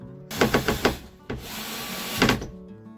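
A small hand screwdriver driving a screw into a wall cabinet during a camper van conversion, with a few quick creaking, rasping turns near the start, a short pause, then another burst of close grinding twists.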